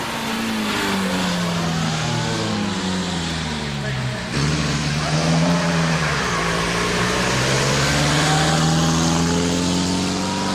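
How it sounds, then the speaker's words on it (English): A fearsome 6-litre GN Special racing car accelerates up the Prescott hill climb, its engine note rising and shifting through gears, loud and close, with a voice talking over it. "even this fearsome 6-litre GN Special"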